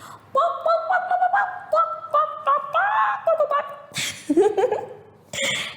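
Several voices imitate chicken clucking in a quick rhythmic series of nasal honking calls, followed by laughter.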